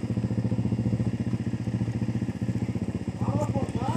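Quad bike engine driving in third gear, a steady, fairly close mid-pitched throbbing with a fast, regular pulse that rises slightly toward the end, while a voice calls out over it.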